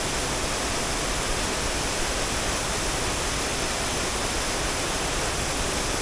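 Pinlac Falls pours in a dense, unbroken roar of falling water, loud and close with no pauses and no voices.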